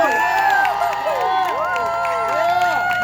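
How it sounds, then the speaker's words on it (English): A loud crowd at a community gathering cheers and applauds throughout, with rising and falling whoops and shouts over a steady wash of clapping. "Let's give a big round of applause."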